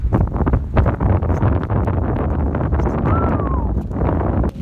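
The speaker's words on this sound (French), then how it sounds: "Là, c'est le vent et la pluie" Gusty wind and rain of an approaching thunderstorm outdoors in Isère, a loud continuous roar buffeting the microphone with no talk.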